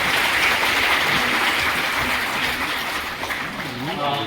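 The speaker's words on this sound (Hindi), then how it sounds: "इनके लिए जोरदार तालियां हो रही।" Loud clapping from a crowd of women at a free sewing machine handout event greets a guest, a continuous rain-like patter of applause with a speaker's voice running over it.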